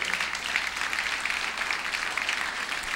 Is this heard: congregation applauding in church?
yes